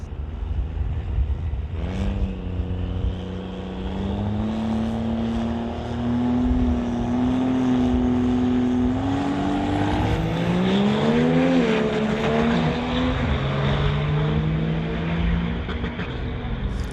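A 1994 Dodge Ram and a 1991 Chevy Silverado diesel truck drag racing in a diesel lane, engines roaring loudly and climbing in pitch through gear changes, a sustained heavy drone with no talk.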